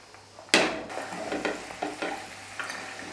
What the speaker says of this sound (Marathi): ह्या ज्या भाज्या आहेत त्या आपल्याला तेलामध्ये परतून घ्यायच्यात